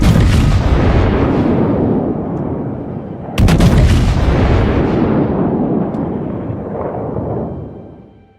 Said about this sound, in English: At 5:52 a.m., HMS Hood raised her 15-inch guns and fired.